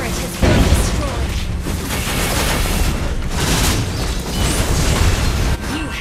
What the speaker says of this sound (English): Turret has been destroyed.